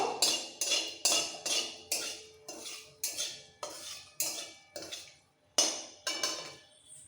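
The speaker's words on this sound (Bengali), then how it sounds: "এবার এই পেঁয়াজ ভাজা তেলের মধ্যে একটা শুকনো লঙ্কা ফোড়ন দিচ্ছি ফোড়নটাকে আগে এই শুকনো লঙ্কাটাকে একটু ভেজে নেব" A spatula scrapes and stirs through a pan as a dry red chilli fries in onion-fried oil, in about a dozen rhythmic strokes, close and clear, with no talking.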